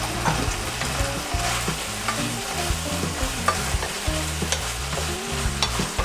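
Chinese kale and canned fish stir-fried in a pan, with steady sizzling and repeated scraping strokes of a spatula against the metal, close up and continuous without any talk.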